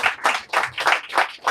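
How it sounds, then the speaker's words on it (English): Audience applause after a bookstore author conversation, a small group clapping in loud rhythmic bursts about every third of a second, close and alone. "Let's give another round of applause."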